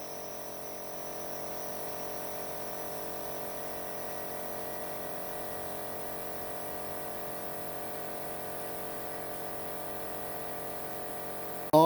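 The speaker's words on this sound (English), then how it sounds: "So that is filling up off the main air compressor reservoir." Air compressor running steadily as it refills the main air reservoir, a constant even mechanical drone with a strong hum that holds level throughout, with no talking.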